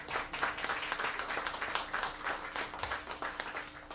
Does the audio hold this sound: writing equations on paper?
no